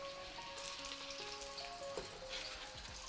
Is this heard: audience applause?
no